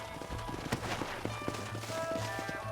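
Horse hooves clip-clopping at an unhurried walk in the video game Red Dead Redemption, a faint, irregular series of soft thuds under a steady ambient game hum.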